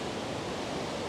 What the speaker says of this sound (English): Probably be a nice place to sleep with the river roaring right beside you.